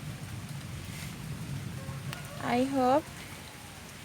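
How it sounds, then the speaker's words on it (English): Heavy rain falling outdoors near a home among trees, a steady wash of noise throughout, with a brief voice speaking over it near the end. "Today is very heavy rain from the morning, still now continue the rain"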